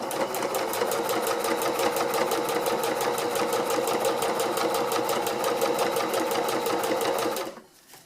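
A sewing machine runs a lock stitch along the folded edge of a hex tarp, a fast, even mechanical chatter held for several seconds before it stops abruptly.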